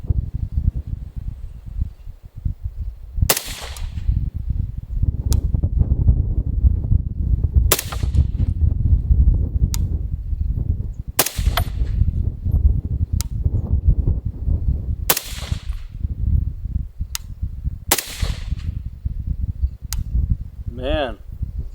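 M110-style rifle fired at 5-inch targets outdoors in strong wind, about eight sharp loud cracks spaced several seconds apart over a constant roar of wind.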